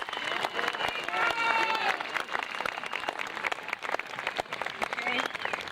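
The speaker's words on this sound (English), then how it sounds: "Would you please give these community service servants a round of applause?" An audience at a high school graduation ceremony applauds with steady, sustained clapping from a crowd, mixed with some murmuring voices.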